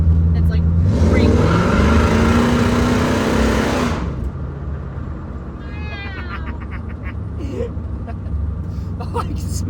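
Mustang named Sally-Bee, driven hard on a shakedown with no gauges, squeals its tires through a turn. A loud, rising screech lasts about three seconds over engine rumble, then fades into road noise with brief squeaks and faint voices.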